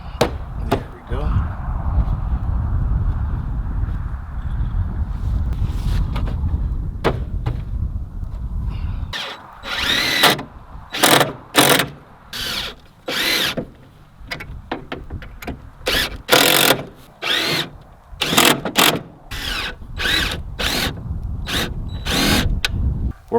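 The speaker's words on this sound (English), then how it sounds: "I need some room to drill" A power drill whirs in short repeated bursts after a stretch of lower rumbling noise, close by and fairly loud.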